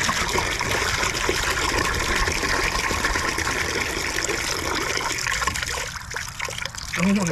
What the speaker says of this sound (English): That is some disgusting water, John.